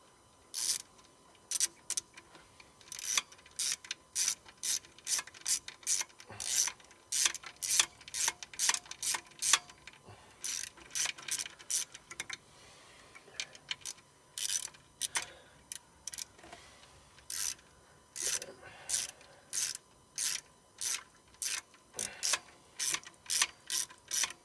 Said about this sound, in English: Now to add the screws to the back.